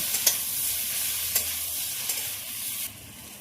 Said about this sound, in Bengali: সব কিছু দিয়ে আবারও খুব ভালোভাবে নাড়বো ভাজার জন্য।